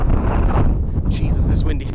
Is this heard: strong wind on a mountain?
yes